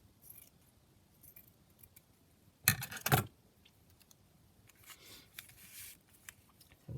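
Scissors cutting through paper, a few short crisp snips clustered together, then lighter rustling and handling sounds nearby in an otherwise quiet room.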